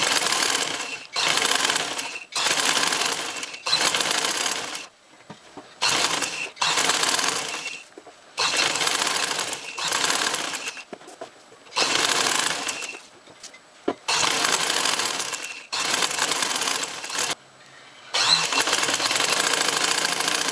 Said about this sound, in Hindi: आप टांका बड़ा कर लें मशीन का, टांका फुल करने के बाद इसको थोड़ा थोड़ा हम पीछे से खींचते जाएंगे और सिलाई लगाते जाएंगे।